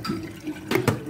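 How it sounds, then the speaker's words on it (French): Fresh gnocchi are rinsed under running tap water, with soft splashing and two short louder gushes near the end, fairly close and without talk. "je viens le rincer complètement"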